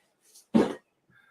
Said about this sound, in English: that was a coughing fit